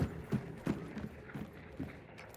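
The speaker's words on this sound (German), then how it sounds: "Die kommen hier hinterher gerannt." Running footsteps of enemy players in the game Hunt: Showdown come as a series of dull, evenly spaced thuds at moderate distance, with no talk over them.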